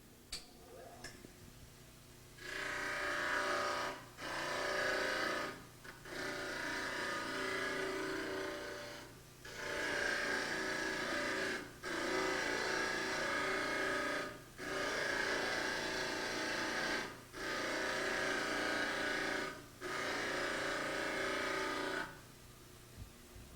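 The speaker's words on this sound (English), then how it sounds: "Flatten the surface around the maxillary base on the trimmer." Dental model trimmer grinding the base of a maxillary stone model flat, heard as a steady, loud abrasive rasping in several long passes broken by brief pauses.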